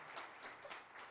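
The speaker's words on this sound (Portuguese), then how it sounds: "E eu peço, então, uma salva de palmas ao nosso ex-ministro Celso Panceira." Audience applause at a national science and technology forum in Campo Grande, following a call to honor a former minister: soft, brief clapping heard from a distance, fairly faint, with no talk over it.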